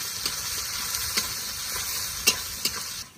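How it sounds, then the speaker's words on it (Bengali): Chopped onions frying in oil with nigella seeds and dried red chillies give a steady close sizzle, broken by a few sharp stirring scrapes and clicks from the spoon, with no talking. "পেঁয়াজটা একটু ভালো করে ভেজে নেব"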